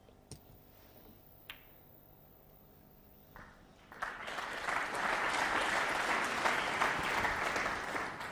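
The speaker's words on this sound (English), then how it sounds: "Applause for the escape." A few faint taps and clicks in a quiet snooker arena, then a sudden burst of loud, dense applause from the crowd at the 2008 Welsh Open final, O'Sullivan against Selby, holding strong to the end.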